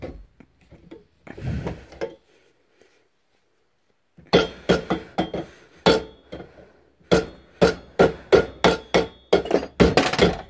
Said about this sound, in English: I'm just gonna be making the holes a bit bigger with a hammer